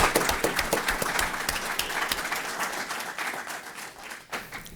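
Applause for a police chief and staff at a State of the City address, a hall full of hands clapping steadily with some sharp nearby claps, holding strong before tapering slightly.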